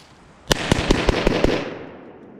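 Six sharp shots ring out in quick succession from an AMT Automag 2 pistol, each crack loud and close with a washy reverberant tail that fades after the last round.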